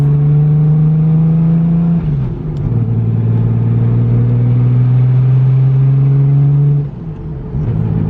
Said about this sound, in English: It's a nice little peaceful nighttime drive.